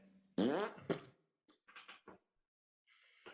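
A voice imitates a fart with a loud, buzzy blown raspberry, followed by shorter sputtering bursts and a final hiss, close and alone.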